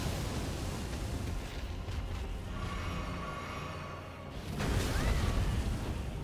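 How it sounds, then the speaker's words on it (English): Glintstone Dragon Adula's breath attack in Elden Ring roars out as a loud, sustained rushing blast, eases briefly, then surges again with a fresh whooshing swell; no one speaks. "Going for the breath weapon."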